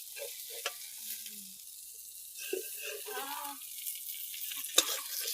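Fish frying in a pan in a home kitchen, a soft, continuous sizzle with occasional clinks of utensils, fairly quiet and close.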